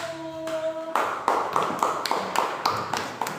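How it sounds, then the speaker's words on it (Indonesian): A classroom of children claps for a group in a science lesson, a rhythmic, unison clapping pattern of sharp beats, entering after a brief moment of quieter noise. "Tepuk tangan untuk kelompok 1"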